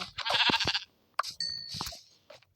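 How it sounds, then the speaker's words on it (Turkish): Sheep in a mountain survival video game let out several short bleats, close and fairly loud, separated by brief gaps. "Burada bir sürü koyun var."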